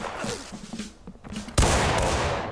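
Rifle gunfire erupts in a video game battle with a sudden loud report that rolls into a sustained roar, following a short stretch of muffled talk and shuffling.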